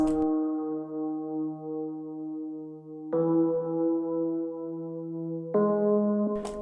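Low Rhodes electric piano patch from Omnisphere in FL Studio, three sustained chords, each held a few seconds before the next, clean and alone at moderate volume.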